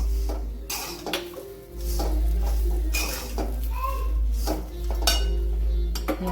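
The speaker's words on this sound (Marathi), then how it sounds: "अशा पद्धतीने हलवत राहायची" A utensil stirs tender gram-leaf bhaji in a metal pan, giving repeated close scraping clinks and knocks at an uneven rhythm over a low background hum.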